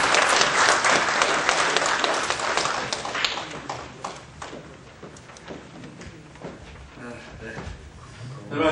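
A lecture audience at a citizens' forum claps to welcome a lawyer onto the stage. Thick clapping fills the first few seconds, then thins into scattered, fading claps and taps.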